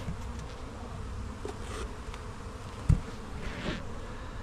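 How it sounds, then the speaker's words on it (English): A dense, continuous hum of many honeybees buzzing at an open hive nearby, with one brief knock partway through. "We found the queen. The bees are happy."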